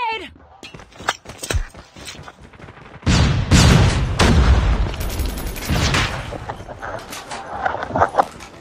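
Grenade explosion in a World War II-style shooter video game: a loud, broad blast lands a few seconds in and rumbles on for several seconds amid other gunfire and battle noise, with shouted voices.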